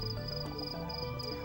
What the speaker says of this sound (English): Most of those noises you can hear are being produced by cicadas.